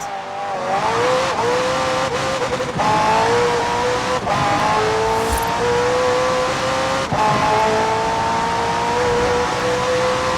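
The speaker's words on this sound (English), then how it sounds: "The car's blistering performance is delivered by a twin-turbo V8, supplemented by a McLaren ECU electric motor and instant power assist system" A McLaren twin-turbo V8 hybrid car in Forza Horizon 4 roars continuously and loudly, engine pitch climbing and dropping through several gear shifts, with faint tire squeal mixed in.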